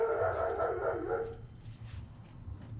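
Several dogs bark at a FedEx delivery, heard at a distance outdoors as a dense, overlapping chorus of barks that continues throughout, with no talk.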